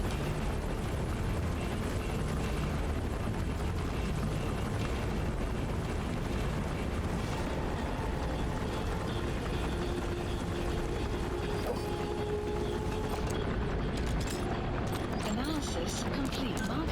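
A gunship helicopter in Metal Gear Solid 5 roars continuously with dense rotor noise, joined by rumbling blasts and a faint tone partway through, loud and unbroken from start to finish.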